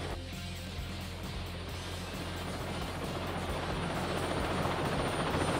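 Helicopter in the Teenage Mutant Ninja Turtles 2003 video game, a steady loud rotor drone with rhythmic chopping that holds continuously and swells slightly toward the end, with no talk over it.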